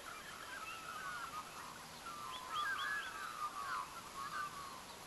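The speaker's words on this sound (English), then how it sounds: "Can you hear them gobbling?" Faint, distant turkeys gobbling on a farm, a series of short warbling fowl-like notes, quiet against soft outdoor background noise.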